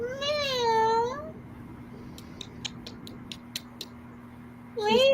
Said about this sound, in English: Layla, Layla, Layla. Meow.